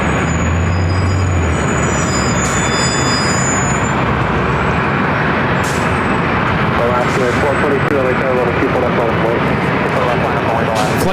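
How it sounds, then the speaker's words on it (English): A Delta Airbus A330neo jet taxis toward a north side takeoff at LAX, a loud continuous engine rumble and whine, with people talking over it. "Also a Delta A330, flight 2980, A330 Neo heading to Paris, also heading up for a north side takeoff."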